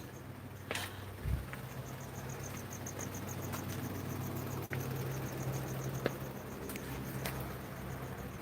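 Steady, faint insect chirping fills the background throughout, a continuous high trill with a few soft thumps and clicks nearby.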